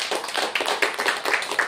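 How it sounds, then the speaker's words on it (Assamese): A church congregation claps loudly together in praise, a dense run of quick, close hand claps with a steady rhythm, no voices over it. "আমি জোৰকে তালি বজাই ঈশ্বৰক ধন্যবাদ কৰো।"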